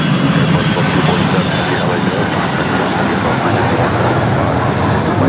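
A Delta airliner performs a go-around at LAX, its jet engines roaring loud and steady as it climbs away, a sustained broadband rumble with a voice faintly under it.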